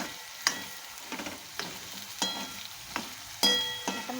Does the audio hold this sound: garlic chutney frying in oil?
yes